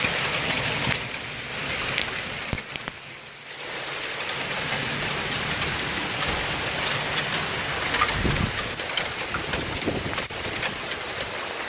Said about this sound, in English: Oh my goodness. This is hail. Look at that.